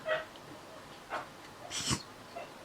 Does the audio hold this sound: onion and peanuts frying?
no